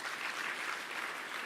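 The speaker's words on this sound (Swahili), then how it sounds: "Pigieni makofi" Steady, dense crowd applause fills a formal Kenyan government gathering as cabinet secretaries are introduced. It sounds even and fairly distant across the whole short stretch.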